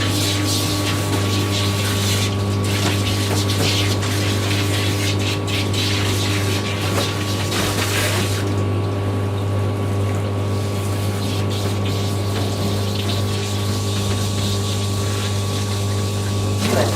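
Water sprays steadily while a dog is rinsed during grooming, a continuous hissing rush under a constant low pump hum, loud and close, easing somewhat partway through.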